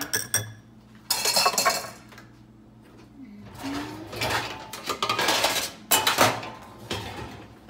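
Potato skin filling ingredients are mixed in a bowl, with scattered clinks and scrapes of a utensil against the dish coming in several busy spells, close and moderately loud.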